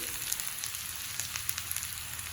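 Fried soybean chunks and potatoes sizzle steadily in a hot pan, a dense, even crackle with small pops scattered throughout and no voices.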